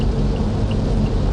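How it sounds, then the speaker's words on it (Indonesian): Heavy rain falls steadily on the road into a village in Papua, a loud, dense, even hiss with no breaks and no voices. "hujan makin deras"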